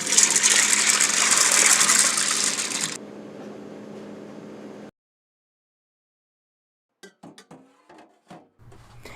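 Tap water gushes loudly onto soaked beans being rinsed for hummus, then thins to a lighter pour and cuts off, followed by a few scattered clatters and knocks.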